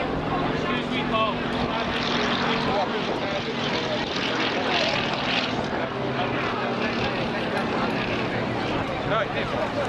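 Fairey Swordfish biplane W5856 flying at the Blackpool Air Show 2023, its engine a steady broadband drone running throughout, with a commentator talking over it and outdoor crowd noise.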